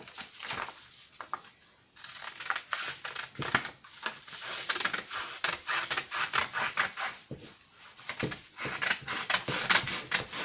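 A sewing bag pattern piece being cut out, with repeated short, rasping cuts in uneven bursts and brief pauses, close and fairly clear.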